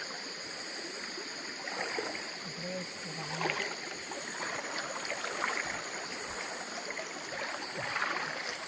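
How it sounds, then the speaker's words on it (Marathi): Water swishing and trickling steadily around legs while wading knee-deep through a rocky stream on a rainy first-monsoon night in Konkan, moderately close, with faint voices underneath. "पाणीच पाणी ढोपरापर्यंत पाणी आहे"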